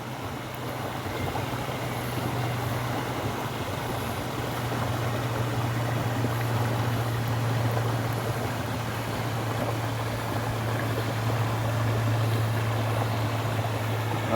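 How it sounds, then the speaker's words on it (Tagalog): Steady rushing of water flowing at Hinolugan Falls in Guinobatan, Albay, a continuous broadband wash with an even low hum beneath, constant and moderately loud throughout with no speech. "Narinig niyo yung daloy po ng tubig."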